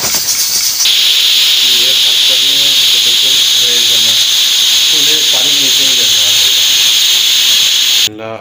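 Steady, loud steam hiss from a pressure cooker being opened after cooking red beans fills the clip from start to finish, with a voice talking underneath the continuous rushing noise.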